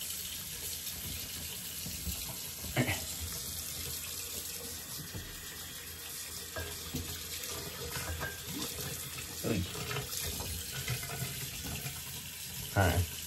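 Water runs steadily from a tap into a sink during tooth and mouth rinsing, a constant close splashing hiss with a few louder splashes and clatters.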